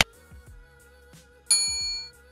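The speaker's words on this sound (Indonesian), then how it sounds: "jangan lupa tekan tombol loncengnya supaya kalian mendapatkan notifikasi setiap kali saya upload video" A notification bell sound effect rings out twice: a sharp ding at the start and a brighter, sustained metallic chime halfway through that fades slowly, over low background tones.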